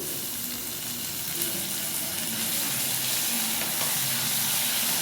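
Sliced tomatoes fry in a pan with ginger garlic paste, giving a soft, steady sizzle and hiss close by, fairly quiet and continuous with no talking.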